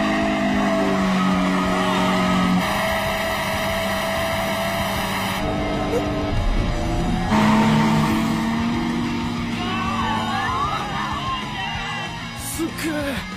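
Two anime race cars, a Toyota AE86 and a rival, drift side by side on a mountain road, engines droning loudly with steady tonal roar and tire squeal rising late, a brief yell over the continuous noise.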